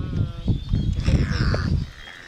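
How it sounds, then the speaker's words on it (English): Seabirds on a bird island guarding their young, giving loud harsh caws and squawks in quick overlapping bursts close overhead, with rustling and movement beneath. "I really don't like these birds pecking at my head."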